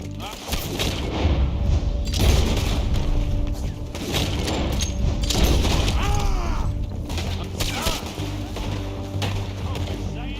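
Gunshots ring out in Red Dead Redemption 2 during a shootout, repeated loud bangs and booms mixed with mechanical clicks, under characters talking over the fire.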